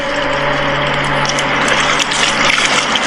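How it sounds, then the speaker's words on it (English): Paddling through red-tinted water outdoors, a continuous close-up sloshing and gushing of water with faint woody knocks, loud and steady throughout, with a low hum underneath. "I'm paddling currently through red water."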